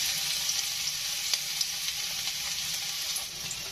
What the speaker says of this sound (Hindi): तड़के में डालेंगे हम थोड़ा सा क्रश किया हुआ लहसुन,